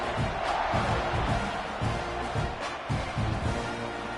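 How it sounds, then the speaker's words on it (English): A crowd roars and buzzes in a packed football stadium at a Texas A&M versus UConn game after a score. The dense wash of noise carries rhythmic surges, like chanting or drumming, throughout. "this crowd is buzzing after that last score"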